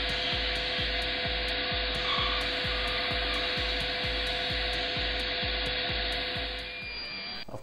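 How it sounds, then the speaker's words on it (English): Bandsaw cutting the centre waste from a timber piece for a traditional casement window, a loud continuous whine with a rhythmic thumping pulse throughout, close by with no talking. "Then onto the bandsaw to remove the centre waste."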